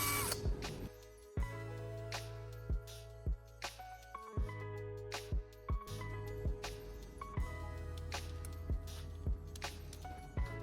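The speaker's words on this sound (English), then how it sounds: "Now, I'm drilling a small hole through the center of each light bulb base." A power drill boring small holes through the centers of light bulb bases whirs in repeated short bursts, stopping and starting with sharp clicks between runs, close and fairly quiet with no talking.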